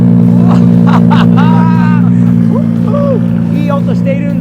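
Several JDM cars idle with engines running at Osaka Auto Messe as they are driven out, a steady loud low drone under excited voices and crowd chatter, with occasional whistles or squeaks.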